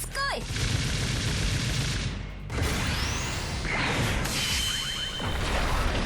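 In a Mobile Suit Gundam mobile game, an S Gundam fires: loud bursts of rapid gunfire and blasts mixed with swooshing beam sweeps and rising whooshes in a dense, continuous barrage.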